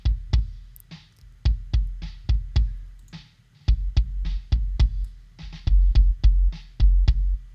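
A drum mix with no sub kick channel: repeated punchy kick drum hits in a steady groove, with lighter cymbal and snare hits around them, loud and close.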